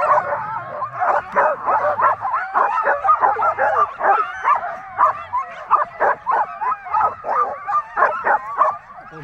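Sled huskies bark, yip and whimper excitedly in a continuous, loud, overlapping chorus close by, with rapid rhythmic bursts throughout.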